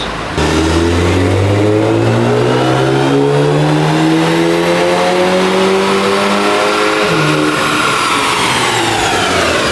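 Volkswagen Jetta GLI with a Unitronic Stage 1+ tune revs hard on a dyno, a loud close engine note climbing steadily in pitch for several seconds, then dropping briefly and rising again, with no talk.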